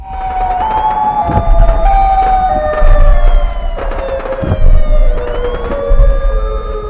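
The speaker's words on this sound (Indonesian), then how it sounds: "suara sirine polisi dan bunyi tembakan" A police siren wails loudly and close by in a residential area, its pitch sweeping up and down, while low thumping gunshots punctuate it at irregular intervals.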